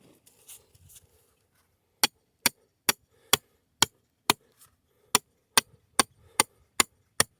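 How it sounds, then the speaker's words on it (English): A metal trap stake driver is hammered into the ground while resetting a coyote trap outdoors. About twelve sharp, close, evenly spaced strikes follow a few quiet rustles, with no talking. "hammer my driver down in there, and just wiggle out a hole"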